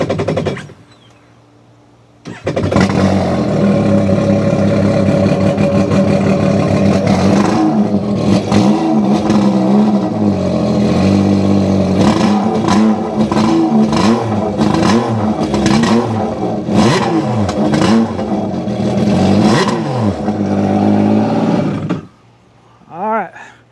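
A Yamaha SuperJet jet ski with a Riva Free Flow exhaust starts and runs loud and close, crackling and popping with rapid blipped revs for about twenty seconds before shutting off.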